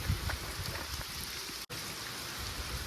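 Heavy rain pours in the village of Nilakha in a steady, close wash of drumming drops, briefly cut by a tiny gap, with no one speaking.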